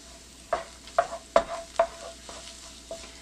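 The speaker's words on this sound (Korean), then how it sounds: "여기에 마늘을 먼저 넣어서 은근히 향이 우러나올 수 있도록 살짝 볶아줍니다." Garlic sautés in olive oil in a pan, a soft sizzle broken by about six distinct scraping stir strokes in an uneven rhythm, close and fairly quiet, with no talking.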